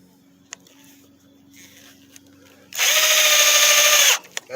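A power drill drives a half-inch number 8 hex head screw into a downspout pipe, one loud steady whir of about a second and a half following quiet handling noises, then stopping abruptly.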